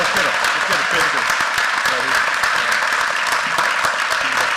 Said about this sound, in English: Stand up, give him a round of applause